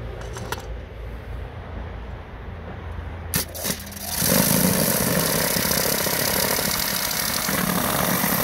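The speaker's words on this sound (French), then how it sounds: "Je passe au Karcher après." A Kärcher pressure washer sprays an EGR valve being cleaned, its motor and high-pressure jet starting about four seconds in and then running as a steady, loud, broadband hiss and hum, after brief quieter bumps and handling noises.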